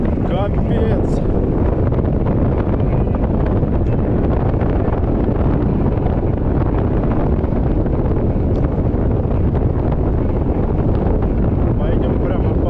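Strong wind gusting across open terrain on a road near the Crimean coast, a loud continuous buffeting roar battering the microphone for the whole stretch, with a voice speaking briefly near the start.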